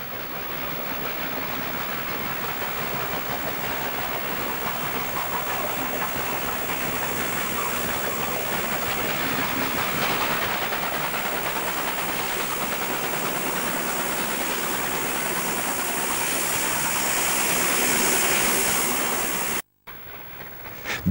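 Victorian Railways steam locomotive R707 runs near Seymour with a continuous loud steam hiss and rushing rumble that swells slightly toward the end, then breaks off abruptly, with no voices.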